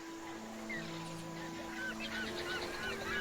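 Birds call in a Port Royale 4 video game: a run of honking, goose-like cries repeats over a steady ambient drone and tonal music, moderately loud and without speech.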